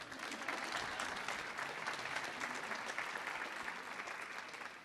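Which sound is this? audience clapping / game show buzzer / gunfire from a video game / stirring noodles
audience clapping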